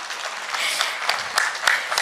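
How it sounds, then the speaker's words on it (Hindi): Audience applause at an International Yoga Day certificate ceremony, a dense steady patter of many hands clapping with a few sharper claps standing out. "सभी जोरदार तालियां बजाएं।"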